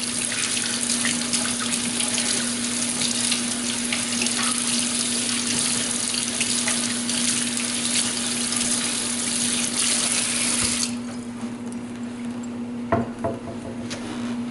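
Hands washed slowly under a running tap at a sink, a steady close rush of water that thins out near the end, followed by a couple of small knocks, no talking.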